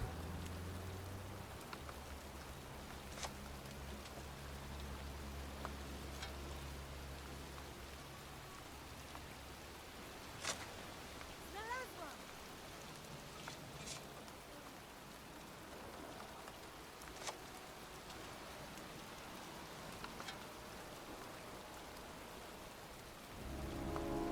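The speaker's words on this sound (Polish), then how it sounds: "Przecież pada." Rain falls steadily in the video game Heavy Rain, a soft continuous hiss and patter with scattered drips, a few faint distant thunder rumbles and no voices.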